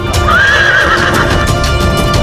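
A horse whinnies loudly and close, a rising and falling neigh lasting under a second, with clip-clop hooves and background bustle continuing throughout, in a scene about the Mughal captivity of Ajabde and Maharana Pratap.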